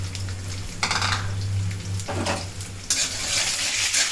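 Black cumin seeds and chopped garlic frying in oil, being stirred, a close sizzle with bursts of scraping from the spoon and a louder hiss toward the end over a steady low hum.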